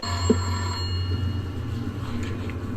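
An old telephone that is not plugged in rings with a steady, droning electronic tone, fairly constant and mid-level, with a faint low hum underneath and no voices.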